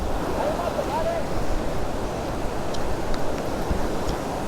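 The Kumaradhara river flows beneath the Bisle bridge on the Bisle Ghat road: a constant broad rush of water, mixed with wind buffeting, heard steadily throughout.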